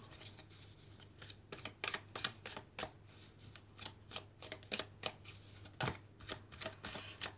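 Tarot cards are shuffled close by in a run of quick, papery riffles and flutters, stopping briefly and starting again, with no talking.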